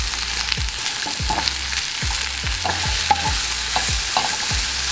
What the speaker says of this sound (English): add our mushrooms, our garlic, and our onions straight into here. We're gonna let them cook low and slow.